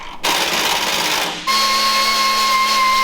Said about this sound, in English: So we've got to belt grind them all out.